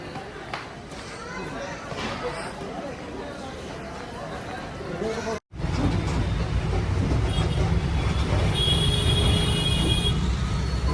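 A passenger train bound for Hyderabad rumbles steadily with rhythmic clatter, broken by a brief cut before a louder, denser stretch of rolling noise.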